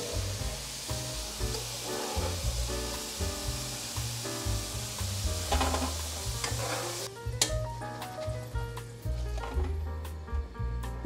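Potatoes and carrots deep-frying in oil, a steady close sizzle with stirring and scraping in the pan throughout, no talk.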